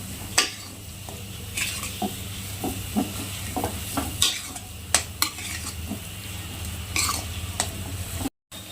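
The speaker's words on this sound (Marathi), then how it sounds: "मस्त बटाट्यामध्ये आपण सर्व मसाले मिक्स करूया।" A spoon stirs spices into a potato filling for mini samosas in a pan, making repeated scraping strokes over a soft, steady sizzle at close range.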